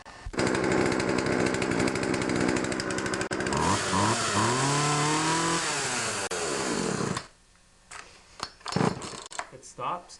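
Poulan 2150 chainsaw running after a Walbro carburetor install, loud raspy two-stroke roar that revs up and down in sweeping pitch changes for about seven seconds, then cuts out, leaving clatter and brief bursts.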